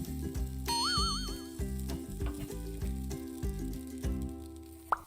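Rectangular takoyaki batter sizzles steadily in a pan over medium-low heat, a continuous frying crackle running under background music with occasional soft clinks.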